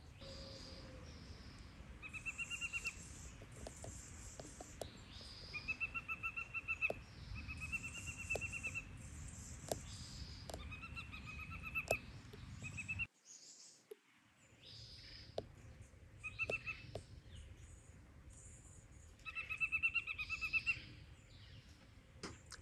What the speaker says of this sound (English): take the bird sounds you hear and translate them to your piece of paper